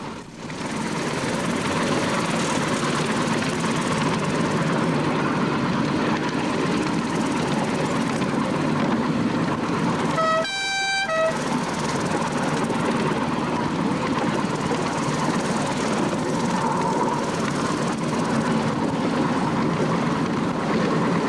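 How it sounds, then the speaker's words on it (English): Steady, loud rumbling and droning of a small park train in motion on a short run through a reserve, briefly interrupted by a short tonal horn or whistle midway. "We are now going to enjoy a ride with the merry Merseysiders on the train"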